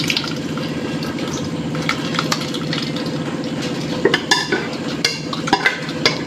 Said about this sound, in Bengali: এবার আমি এটা সঙ্গে সঙ্গে একটা ছাঁকনিতে ছেঁকে নেব।